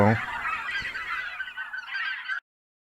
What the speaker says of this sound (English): Thousands of snow geese.